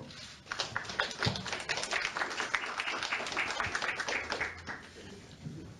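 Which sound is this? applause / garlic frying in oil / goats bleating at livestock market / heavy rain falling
applause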